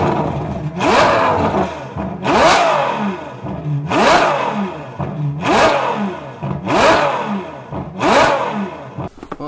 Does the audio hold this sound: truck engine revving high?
yes